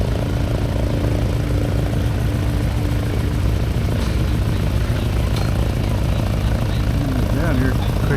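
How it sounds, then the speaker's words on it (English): An RC biplane model engine buzzes steadily at an Ohio airport air show as it gets ready for takeoff, a continuous droning hum under a busy outdoor crowd with people talking nearby. "we got a biplane getting ready to take off"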